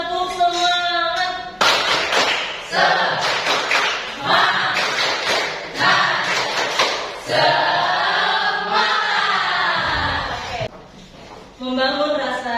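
A class performing the Tepuk Semangat clapping routine, rhythmic bursts of group clapping interleaved with loud chanted voices across the whole stretch, close and energetic.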